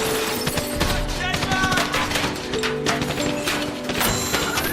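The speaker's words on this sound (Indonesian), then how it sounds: "Terjadi baku tembak Wikus dengan para pasukan." Dense gunfire in a shootout from the film District 9, rapid overlapping shots and bursts filling the scene, loud and continuous with clattering mechanical noise throughout.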